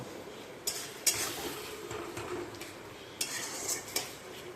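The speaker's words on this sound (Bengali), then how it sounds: "এবারে আমি ভালো করে মশলাটাকে কষে নেব।" Spice paste and tomato stirred in a pan for a pabda fish curry, a low sizzle under several sharp clanks and scrapes of a metal spoon against the pan, close by with no talking.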